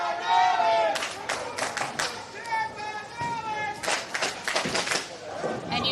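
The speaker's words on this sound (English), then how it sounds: "hear in the background some cheering. Yeah, for the Campanelli chants." Crowd cheering and chanting in the background at a live UBA playoff bowling match, Hills Have Eyes versus Murder Inc, a steady, fairly loud mass of voices with sharp bursts throughout, no distinct individual speech.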